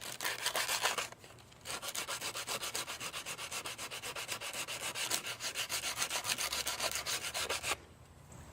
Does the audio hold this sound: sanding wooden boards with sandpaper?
yes